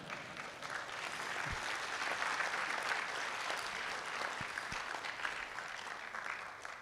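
Sustained, fairly distant audience applause at an official launch ceremony, honouring the inaugural council members. Even and unbroken, with no talking.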